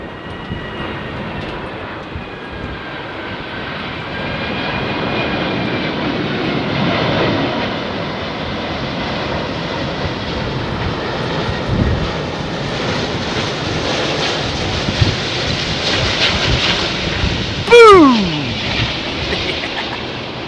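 A large jet with a big tail comes in to land on runway 27R at London Heathrow Airport, a steady broad engine roar holding for the whole stretch, with a brief tonal whine sweeping down near the end.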